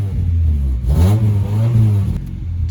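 A non-turbo Honda bought at auction, running with an open exhaust, idles loudly nearby, then gets a quick rev that swells and falls back to a rumbling idle.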